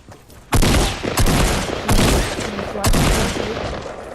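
Gunfire in the Fortnite video game comes in four loud, rapid bursts roughly a second apart, each a clattering volley of shots that trails off briefly before the next.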